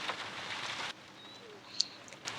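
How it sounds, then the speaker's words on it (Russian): Rain in the PC game Sherlock Holmes: Crimes & Punishments, a steady soft patter with broadband hiss, heavier for the first second then quieter, with a brief drip or chirp near the end. "Какой дождь."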